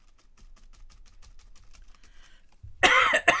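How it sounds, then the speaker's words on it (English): A single person coughs, loud and close, in a sudden harsh burst at the end after faint tapping and room noise. "I'll be so glad when this cough is over."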